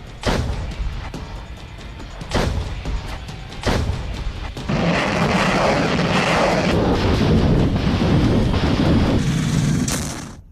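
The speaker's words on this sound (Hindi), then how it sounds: "यूक्रेन के सभी मोर्चों पर रूस की सेना गोली बरसा रही है।" Artillery fire from the Russian army in the war in Ukraine: a few heavy booms in the first seconds, followed by a sustained loud, rumbling barrage that fades out at the end.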